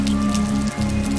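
Rain falls in an even, close wash of pattering drops, blended with a held low tone and briefly dipping near the end.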